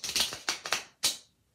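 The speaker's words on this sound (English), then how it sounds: "And then when I shuffle, all I have to do is just shuffle" A deck of playing cards being shuffled close by, giving four quick papery riffling bursts in an uneven rhythm, with silence between them and no talking.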